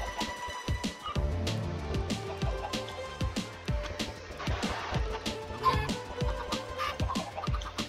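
Chickens in Minecraft cluck in short, choppy bursts over a busy game backdrop, with rhythmic thuds and clicks running steadily underneath.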